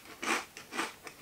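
Close, crisp crunching of a crispy wasabi-flavoured snack being bitten and chewed, three distinct crunchy bursts in quick succession, heard alone with no talk.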